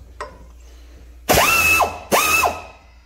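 A Snap-on 3/8 powered ratchet tightens a bolt to 55 foot-pounds: a faint click, then two loud, close bursts of whirring motor that rise, hold and wind down, each about half a second long.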